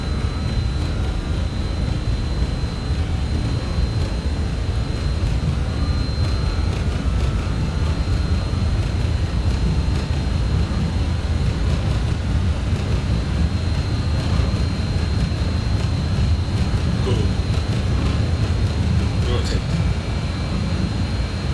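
Avro RJ airliner accelerating down the runway on its takeoff roll in a flight simulator, a steady loud engine roar and rumble holding constant throughout, with no other sounds standing out.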